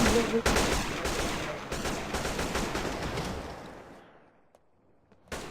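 Rapid gunfire in GTA, a Grand Theft Auto video game, sounds as a dense loud burst of overlapping shots, then fades out to near silence before one last sharp shot, with players shouting in the background.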